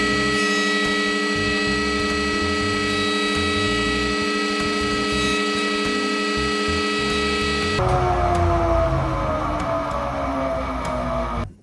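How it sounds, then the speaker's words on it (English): A wood jointer runs with a steady loud machine hum and whine, shifting partway through as a board is fed through for a short cut of about four inches near the end; no talking. "what I'm gonna do is put it through the joiner, but only for about 4 inches"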